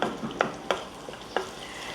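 Cumin seeds, curry leaves and garlic hitting hot oil in a pan for an egg bhurji base, a close steady sizzle punctuated by three or four sharp crackling pops and spatters.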